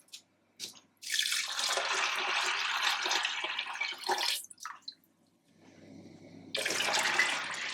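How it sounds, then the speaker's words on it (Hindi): Water gushes steadily into a cooking pot of soaked dal with turmeric and salt, pouring in two long bursts separated by a short pause and a quieter trickle. "और इसमें जाएगा पानी"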